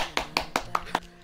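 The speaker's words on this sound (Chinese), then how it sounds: "我哋用热烈嘅掌声欢迎长命小姐" A few sharp hand claps, evenly spaced and close, greet a girl celebrating her 18th birthday, with a voice over them.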